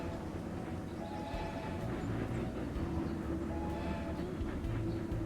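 Trains running in the video game Railroad Corporation 2, a steady rumbling rail run with faint horn tones over continuous moderate-level track noise, no talk.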